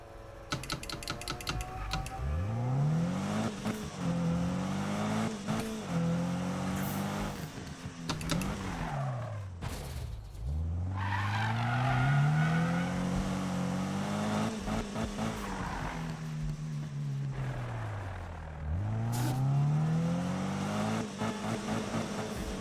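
Racing car engine in Need for Speed 2016, loud and continuous, pitch climbing through repeated gear shifts with brief dips between, revving up and dropping again across the run with no talk.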